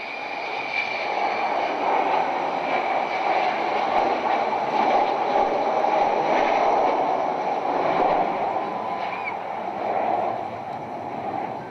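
Avro Vulcan XH558 bomber flying over an air show at Lowestoft, a loud continuous jet roar with a steady howl that rises and falls slightly as the aircraft passes, with no talk.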